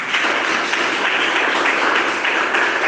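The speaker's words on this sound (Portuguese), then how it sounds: "dar uma salva de palmas para Deus" A church congregation at an evangelical service applauds together, a dense, steady wash of many hands clapping at a constant level for the whole stretch, with no talking over it.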